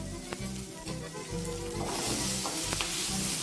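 Sausages brown in a hot frying pan, giving a steady crackling sizzle with scattered sharp pops and soft stirring scrapes, growing louder and brighter in the second half, with no talking.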